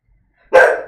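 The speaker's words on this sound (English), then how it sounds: "Cool attack dog." A dog gives one sharp, loud bark close by after a moment of silence.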